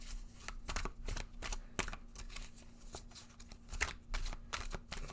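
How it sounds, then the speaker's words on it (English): Tarot cards are shuffled in quick bursts of crisp riffling and flicking, close and fairly quiet, with a faint steady hum underneath. "I'm just going to give the cards a little bit of a shuffle."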